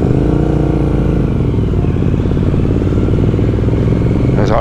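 A Triumph Thruxton RS motorcycle engine runs loud and steady on the throttle, its exhaust rumbling with rough, crackling pops and bangs that carry on throughout.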